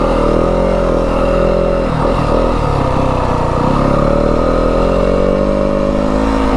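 A 2025 Yamaha WR250F dirt bike runs steadily on a desert trail, its mid-pitched engine droning loud and close throughout with slight rises and dips in revs and no voices.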